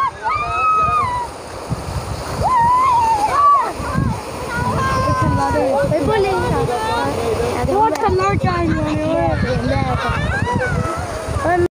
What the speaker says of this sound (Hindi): ये जी बच्चे बोल रहे हैं कि पानी का बहाव काफ़ी ज़्यादा तेज़ हो गया है।